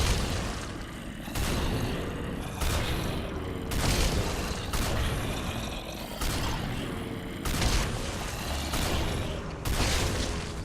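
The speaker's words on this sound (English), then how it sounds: "So this is what it sounds like. It's a 50 caliber sniper rifle after all." AS50 .50 caliber sniper rifle shots in the Minecraft Techguns mod, about six sharp, heavy booming reports spaced a couple of seconds apart, each with a short rumbling tail over background game noise.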